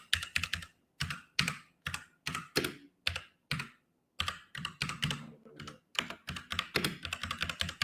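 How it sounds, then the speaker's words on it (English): Clacky keys on a loud computer keyboard are typed in quick bursts with short pauses between, close and prominent, with no voices. "is my keyboard too loud?"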